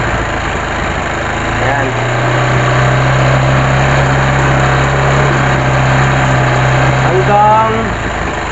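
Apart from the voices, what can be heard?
car engine idling at about 1.5 RPM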